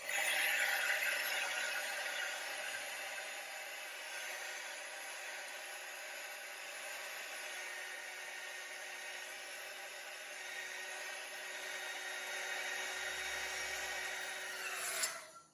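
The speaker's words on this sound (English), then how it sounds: "This is a heat gun. It's kind of like a very powerful hair dryer" A heat gun blows hot air in a steady, loud whirring hiss, running continuously before cutting off at the end.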